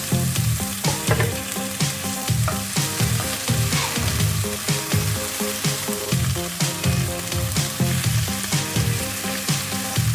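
Tomatoes fry in a pan for spicy sardines with a dense, loud, continuous sizzle and crackle, with stirring scrapes throughout, close up and free of talk.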